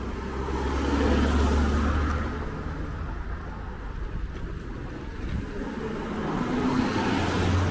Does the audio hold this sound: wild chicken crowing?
no